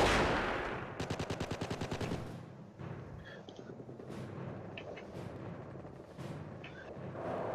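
Rapid bursts of automatic gunfire from the Company of Heroes World War II strategy game, a tight machine-gun rattle up front followed by scattered single shots and distant battle noise.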